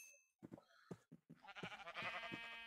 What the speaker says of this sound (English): Wow, that didn't kill that sheep in one hit?